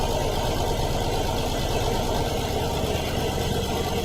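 A 2014 Paccar MX-13 diesel truck engine runs steadily during engine brake testing, a loud, even, continuous rumble with a fast pulsing chug throughout.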